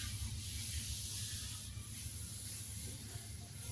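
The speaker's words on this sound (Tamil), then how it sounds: "நான் கருவேப்பிலை போடுறேன்." Curry leaves dropped into hot oil for tomato pachadi, giving a soft, steady hiss and crackle that stays faint and even throughout.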